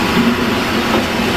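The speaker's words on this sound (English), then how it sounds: "Whilst we wait, a local passenger train comes in." A local electric passenger train rolls into a station on the Tatra line, a steady low rumble of wheels and carriages close by, continuous and fairly loud with no talk.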